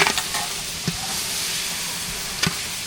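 Vegetables sizzling and frying in a pan for veg biryani, a steady loud hiss with a few sharp scrapes of a stirring spoon, close and with no talking.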